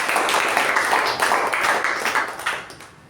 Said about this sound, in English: So a round of applause to Saketh and Toastmasters.